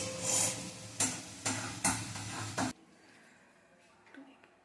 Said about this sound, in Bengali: তো তার জন্য এই যে মশলা কষানো হচ্ছে